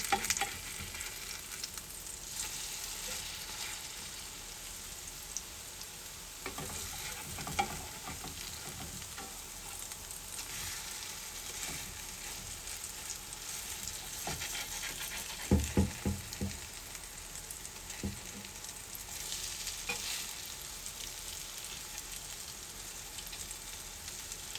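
Squash patties and potatoes fry in a pan with a steady close sizzle. A few scraping knocks from turning them come through in the middle. No one talks.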